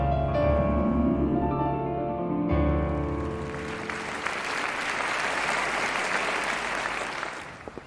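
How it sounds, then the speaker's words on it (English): Audience applause swells after a performance in a football-themed animated episode, starting over fading tonal music and then building into a dense, sustained wash of clapping that holds steady to the end. "You can tell how well you did just from the audience's applause"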